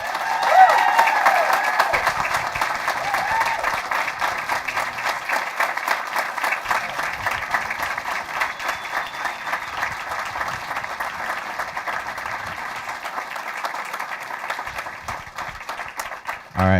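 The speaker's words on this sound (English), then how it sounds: "So let's have another round of applause for them." Steady audience applause for student champions at a school board meeting, a thick wash of clapping that holds for over fifteen seconds and slowly thins toward the end.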